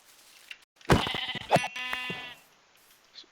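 A sheep in the video game Minecraft gives one loud, wavering bleat in two pulses, followed by quiet.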